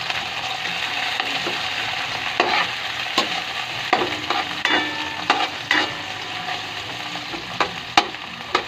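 Tomatoes and onions sautéing in a pan for ginisang upo with sardines, a constant hiss of frying punctuated by repeated sharp scrapes and clicks of a spatula stirring against the pan.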